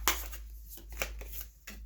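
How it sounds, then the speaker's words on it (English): A stiff tarot card deck is shuffled in quick bursts of riffling and slapping card sounds, faint over a steady low background hum. "So it makes shuffling hard."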